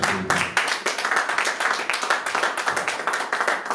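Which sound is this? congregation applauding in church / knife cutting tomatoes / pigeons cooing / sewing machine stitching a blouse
congregation applauding in church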